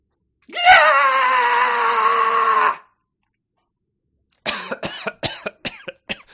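A long, loud human scream holds steady for about two seconds, then after a pause comes a burst of short, choppy laughing sounds.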